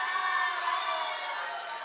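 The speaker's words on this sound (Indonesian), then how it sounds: "Boleh minta tepuk tangan yang meriah untuk ketiga pasangan calon?" Audience applauding the three candidate pairs at a regency head and deputy candidates' debate in East Sumba, a brief, fairly quiet wash of clapping and crowd noise with no talking over it.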